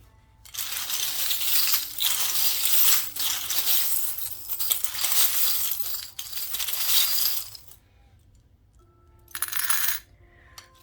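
Small charms shaken and cast for a divination reading, a dense rattling clatter of little hard pieces jingling together for several seconds, then a pause and a brief second shake, close and loud with no talk.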